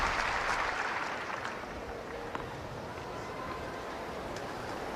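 A US Open tennis crowd applauds in a stadium, a loud burst of clapping that tapers into a steady murmuring wash of applause over the full stretch.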